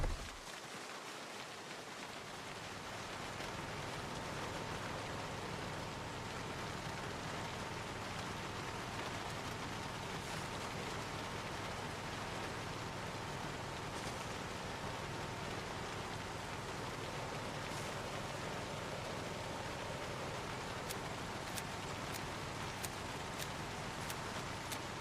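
Steady, dense video game rain pattering without letup, loud and even throughout with no talk over it.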